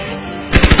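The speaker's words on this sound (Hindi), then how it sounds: "बाबा ने मशीन गन शुरू कर दी" A sudden burst of rapid machine-gun fire, several loud shots in quick succession after a steady noisy background.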